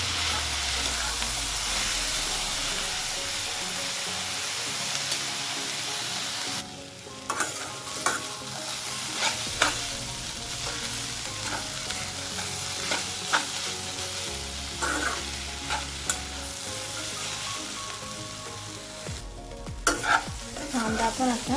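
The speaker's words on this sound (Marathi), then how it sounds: "कांदा पण असा छान भाजून घ्यायचा" Onion roasting in oil in a pan for a chicken curry masala, with continuous sizzling and frying hiss and repeated scraping stirs and clicks of a spatula against the pan.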